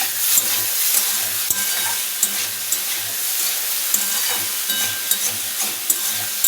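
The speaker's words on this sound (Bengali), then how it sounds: "ভেজে নিচ্ছি।" Sago pilaf frying in a pan with salt, a continuous close sizzle broken by repeated scraping strokes of a spoon stirring it, with no talking.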